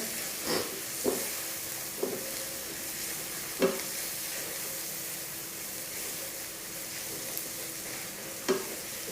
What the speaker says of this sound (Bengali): এটাকে একটু ভালো করে ভেজে নিচ্ছি।